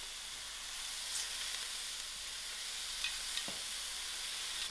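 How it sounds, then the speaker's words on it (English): Mussels being stirred in a hot pot, with a steady sizzling hiss throughout and a few faint scrapes and clinks of the spoon; no one talks. "I'll give this a nice mix."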